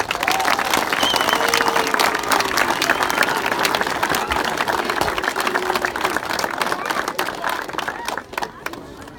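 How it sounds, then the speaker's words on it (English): An audience at a memorial unveiling gives a big round of applause, loud and dense with many hands clapping together, mixed with crowd murmur, then tapering off over the last second. "One more big round of applause."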